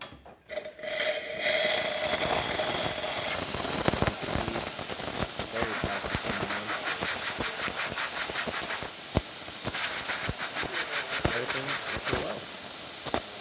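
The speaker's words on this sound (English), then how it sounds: "now we're going to test the steam" A loud, continuous steam hiss from a Pasquini Livia 90 espresso machine steam wand builds up after a brief start and keeps going, with sputtering crackles and pops throughout, close by.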